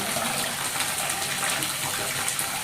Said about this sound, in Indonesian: nanti dibilas sekali lagi ya.